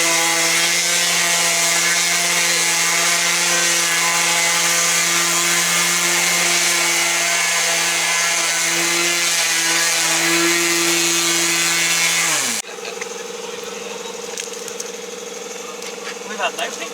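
Power polisher running on a sailboat hull hauled out for antifouling, a loud steady motor whine with a fluctuating tone that drops and stops near the end, leaving quieter background.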